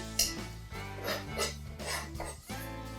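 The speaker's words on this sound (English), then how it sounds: "And just make sure you get all the good zest off the back of that zester." Orange zest scraped off the back of a metal zester: several short, quiet rasping scrapes and light clinks of metal, close and unhurried, with no talk.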